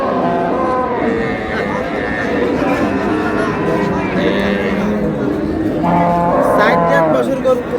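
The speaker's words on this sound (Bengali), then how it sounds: "গাভী বাছুর আমরা দেখছিলাম এখানে" Cows and calves moo repeatedly, several drawn-out calls overlapping amid a busy crowd of people talking nearby at the Ambari cattle market in Bangladesh.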